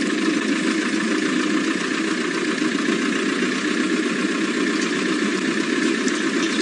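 A safari vehicle engine runs steadily in the Masai Mara as it creeps forward, a constant close mid-low drone with a faint rumbling vibration and no speech.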